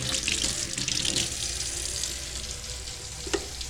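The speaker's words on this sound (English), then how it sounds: "We add water." Water runs steadily from a tap into a cooking pot, a continuous hissing splash close by, with a faint clink near the end.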